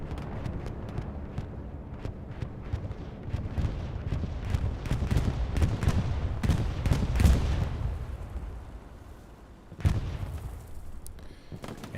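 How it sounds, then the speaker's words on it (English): Bombing run striking Chapel on Utah Beach in a 49-versus-49 Hell Let Loose battle: a dense rumble of overlapping explosions and distant gunfire swells and peaks mid-way, fades, then one sharp blast cracks near the end. "Bombing run coming in on Chapel."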